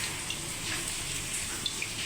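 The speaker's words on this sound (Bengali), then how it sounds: "পানি জল দিচ্ছি।" Tap water runs in a steady hiss while cooking a palm-fruit malpua batter, a continuous close pour with a couple of small splashes and no voices.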